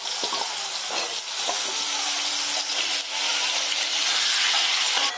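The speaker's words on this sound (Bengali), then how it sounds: "আলুগুলো আমি একটু রং ধরিয়ে ভেজে নেব, হালকা করে লাল রং হবে সেরকম অবস্থায় ভেজে তুলে নেব।" Potato pieces for jackfruit kalia frying in hot oil, a bright, hissing sizzle that runs steadily at close range with faint bubbling and occasional stirring knocks.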